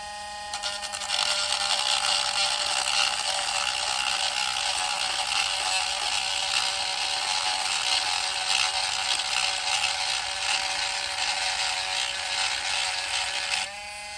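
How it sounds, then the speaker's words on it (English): A rotary sanding drum grinds the hard steel blade of a Spyderco Yojimbo 2 knife with a loud, continuous high-pitched whine and rasp, running steadily before cutting off at the end. "Push this sanding drum down a little bit."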